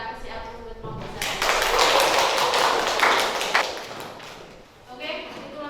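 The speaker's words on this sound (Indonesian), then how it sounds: "Kita kasih aplaus buat kelompok saya." A classroom audience applauds a student group after their presentation, several seconds of dense clapping that swells and then tapers off, with talking before and after.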